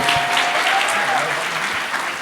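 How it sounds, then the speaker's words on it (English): A panel event audience claps steadily, a dense, sustained round of applause filling the room. "can we give a huge round of applause to the lending suite and the Six for putting this on?"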